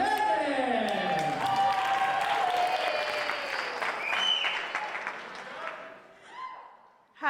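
Wedding reception guests break into sustained, dense applause for the maid of honor, with voices and a few cheers rising over the clapping before it thins out and fades near the end.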